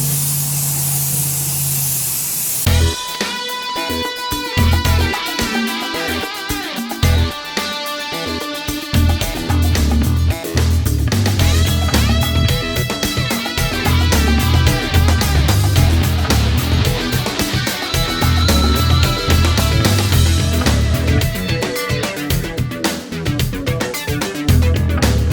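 Spray can laying light primer coats onto a 3D printed Scout Trooper cosplay helmet, with steady bursts of hissing spray close up, broken by brief pauses between passes.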